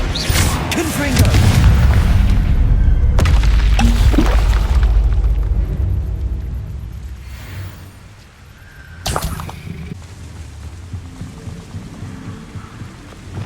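In Hogwarts Legacy, a fiery Confringo spell detonates with a heavy boom and a crackling, shattering burst, followed a few seconds later by another sharp blast amid ongoing game combat noise.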